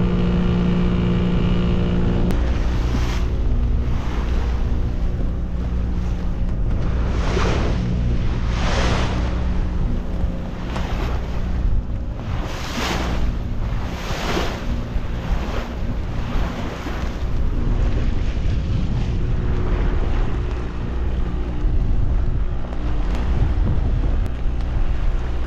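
Wind gusts loudly across open sea near Mamaia as a boat gets under way after raising anchor, with repeated buffeting surges over a steady rumble of engine and water, and no talk.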